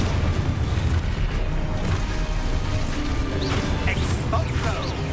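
In Hogwarts Legacy, a Confringo fire spell goes off with a crackling, rumbling blast and mechanical clatter, followed by brief whooshing magic sparkles, loud and close amid a noisy dueling scene.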